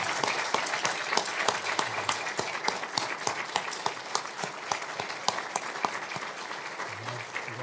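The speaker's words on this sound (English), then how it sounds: "Round of applause for Sean." Sustained applause fills a promotion ceremony for Sean, a United States Air Force officer, with dense steady clapping from an indoor audience lasting throughout, individual sharp claps standing out near the front.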